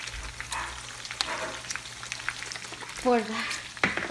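Eggs and potatoes sizzle in a hot pan for a breakfast sandwich, a close, steady crackle with scattered pops and scraping stir sounds, while a brief voice breaks in near the end.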